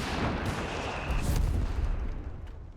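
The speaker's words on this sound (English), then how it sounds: "Machine gun there getting hammered the British mortar." British mortar rounds and machine gun fire in the World War II strategy game Company of Heroes 3, a dense rumbling battle din of thumping impacts and rattling bursts, with louder blasts near the middle before fading slightly.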